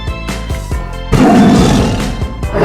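A tiger roar from a children's learning video about animals, loud and close: a rhythmic series of growling pulses swells into one long, rough roar that fills the rest of the short clip.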